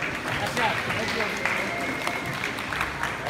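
Crowd applause at a junior Olympics boxing bout in a rec space, a dense steady burst of clapping and cheering throughout, with an announcer speaking over it.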